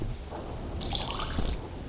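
Dripping water in the game There Is No Game, heard as a soft watery patter with brief splashy bursts over a steady low background, no talking.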